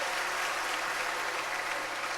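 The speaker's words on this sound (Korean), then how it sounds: "우리 아이들 위해서 한 박수 한번 다시 부탁드립니다" A church congregation at a New Year special dawn worship service claps for the children, a soft, even wash of many hands, fairly distant and steady throughout.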